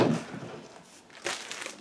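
Plastic bag holding decals and an assembly manual for a Zoukei-Mura 1/32 Do 335A-0 Pfeil model kit crinkles in short bursts, close and moderately loud, with a quieter gap in the middle.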